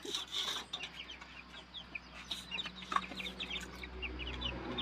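Bantam hen with her chicks, soft close clucks and high chick peeps scattered through a quiet yard, with faint scratching and rustling in between.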